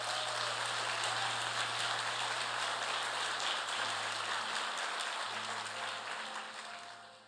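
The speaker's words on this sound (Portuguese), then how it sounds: "só quem recebe, dê um aplauso a Jesus" A church congregation applauds during a worship service, a soft, continuous patter of many hands under a low electronic hum and steady sustained tones, fading toward the end.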